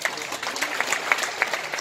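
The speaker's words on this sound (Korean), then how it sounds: "우리 다 같이 박수로서 보냅시다" An audience at a Busan New Year gathering applauds a former mayor, a faint patter of claps with a few sharper hits, briefly mixed with a voice.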